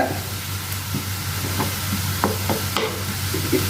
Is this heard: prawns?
yes